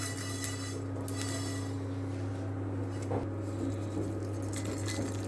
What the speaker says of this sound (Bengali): চটপট চটপট করে ফুটছে।